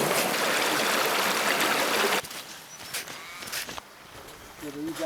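River water flowing in Kosciuszko National Park, a broad rushing wash loud for the first two seconds, then a quieter trickling flow with faint knocks and a low tone near the end.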